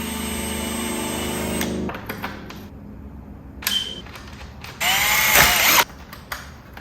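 A power drill runs in several bursts tightening the bolts of a front lip on a 2021 Hyundai Veloster N, first a long steady whir and then short zips and one loud final burst.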